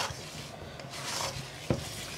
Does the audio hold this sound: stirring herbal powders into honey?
yes